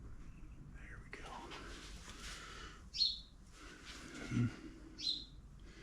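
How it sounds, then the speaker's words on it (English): A small bird trapped inside a John Deere X300 riding mower gives two short, bright chirps a couple of seconds apart, over a quiet, shuffling background with a voice murmuring softly. "Almost forgot about that bird."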